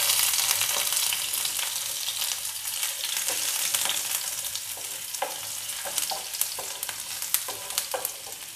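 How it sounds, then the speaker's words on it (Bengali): Chopped garlic fries in hot oil for chicken 65, a loud continuous sizzle with scattered spatula scrapes and crackles throughout. "তেল গরম হয়ে গেছে, রসুন কুচি অ্যাড করছি।"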